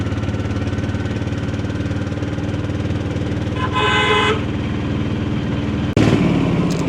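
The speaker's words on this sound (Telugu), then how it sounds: "సో అందువల్ల నేను హోటల్ దగ్గరికి ఆటో తీసుకొని వెళ్తున్నాను" An auto rickshaw ride toward a hotel on Neil Island in the Andaman Islands: a continuous engine drone and road noise, a short horn toot near the middle and a sharp burst toward the end.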